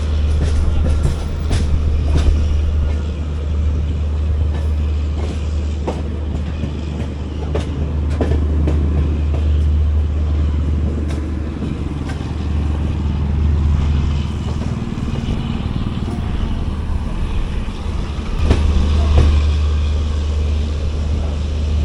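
Vistadome coach of the 16575 Gomateshwara train pulling into Kabakaputtur station, a loud continuous rail rumble with low engine drone, scattered clanks and rattles, and brief swells of rolling noise heard from aboard.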